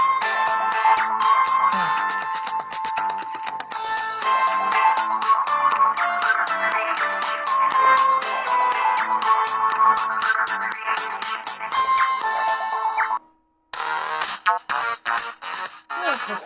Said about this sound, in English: Вот, любимый ringtone.